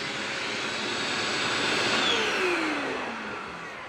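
A Sanitaire SC785 clean-air vacuum cleaner motor runs steadily, a loud broadband whine that swells slightly midway and eases toward the end, with no voices.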